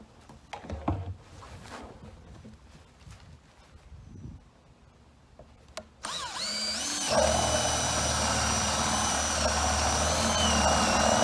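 A power drill with a 1.5 inch bit bores holes through a plastic tank for a larcicide mixing station: handling clatter and short tool bursts, then a loud, sustained whining grind that keeps going close by.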